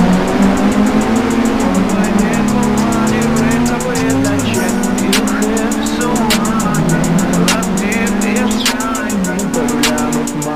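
Cars revving and squealing in a Supra versus police car drop test in the mobile game Indian Cars Simulator 3D, with a loud engine drone shifting pitch, repeated sharp crash clicks and a steady ticking pulse.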